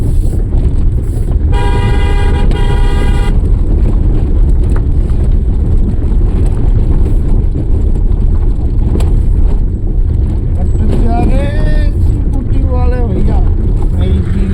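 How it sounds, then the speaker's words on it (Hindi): A vehicle horn blares in a steady honk for a second or two, then fades into loud traffic rumble and wind buffeting, with voices calling out briefly near the end. "हाँ ये लगा हॉर्न।"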